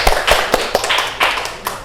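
Scattered applause from a small classroom audience at a microteaching session, a few loud uneven claps and thuds over just under two seconds, close to the microphone.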